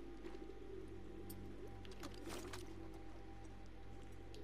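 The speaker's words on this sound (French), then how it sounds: "Ok, c'est les pigeons." Pigeons cooing and fluttering in the video game The Last of Us Part II, a faint, steady bird murmur over a low ambient hum with a few brief flurries of movement.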